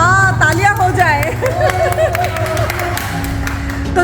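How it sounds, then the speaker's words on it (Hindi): Family members clap and chatter together after a recited story, a busy patter of applause mixed with overlapping voices and babble that fades toward the end. "अरे वाह, तालियां हो जाए।"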